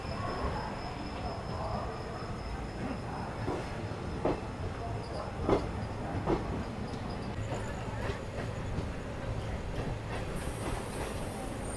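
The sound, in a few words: Ratnachal SF Express train departing Vijayawada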